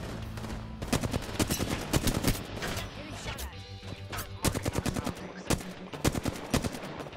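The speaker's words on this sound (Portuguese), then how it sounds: "Olha o tiro comendo aqui" Rapid bursts of gunfire in the video game Apex Legends crack repeatedly, some in quick automatic strings, loud and close, with occasional heavier impacts throughout.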